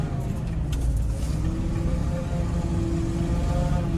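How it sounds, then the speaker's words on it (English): A car on a windy road trip, its wheels spinning in mud while the engine drones steadily, loud and close, with broadband wind-like roar throughout and no talk. "Oh, spinning in the mud."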